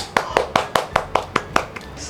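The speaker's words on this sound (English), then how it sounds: "please clap" Eight sharp hand claps at a steady, even pace, close by and fairly loud, with faint room noise between them.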